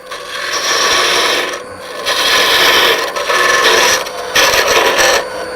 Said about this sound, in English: Come back with our parting tool. Now we can take it on down to about a 3/4 tenon on each end.